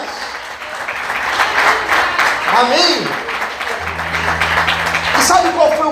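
A church congregation applauds steadily during a evening service, a dense wash of clapping throughout while a preacher's voice and a sustained musical tone sound over it.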